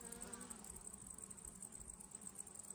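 Honeybees buzz at a hive entrance early in the morning, a steady, busy drone close by, many wings humming together with no voices over them.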